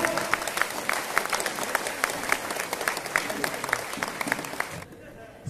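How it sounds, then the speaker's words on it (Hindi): Loud, sustained applause from a large audience welcoming leaders at a big indoor program in a hall at Simrahi Bazaar, with dense clapping and crowd noise throughout that cuts off abruptly near the end. "जोरदार तालियों से स्वागत करेंगे"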